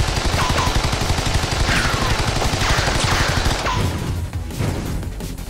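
Rapid high fire-rate gunfire from a weapon in the video game Choke Point, a dense continuous burst of loud shots lasting throughout with no pauses.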